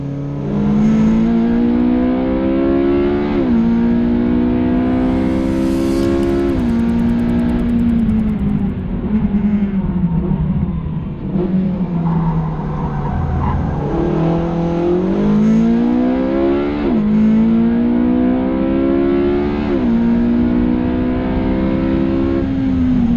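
A Porsche 918 Spyder accelerates hard on a race track, its engine rising steadily in pitch through gear changes with brief drops between shifts, loud and sustained throughout.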